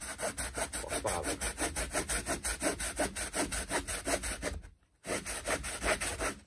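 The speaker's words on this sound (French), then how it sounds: "On va couper ça à la scie." An old hand saw cuts through wood in steady back-and-forth strokes, a rhythmic rasping close up that pauses briefly before resuming, with no talking.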